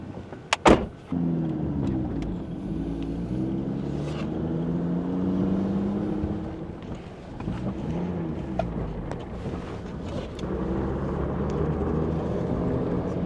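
A vehicle drives a trail south of Moab, between Moab and Mexican Hat, with a steady engine drone that rises and falls in pitch as it moves. A sharp click comes near the start, and light rattles and bumps occur throughout.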